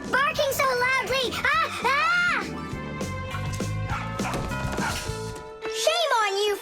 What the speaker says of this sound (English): Hey, Tom Thomas, please tell your rabbits that they can stop barking so loudly.